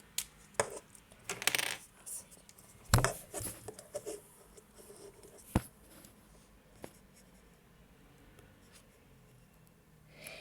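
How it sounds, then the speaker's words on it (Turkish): Brown felt-tip pen coloring a branch pattern on an egg: scratchy strokes and light taps on the shell, with a few sharper clicks, close and fairly quiet. "kahverengi kalemimle dalını boyamakla başlayayım"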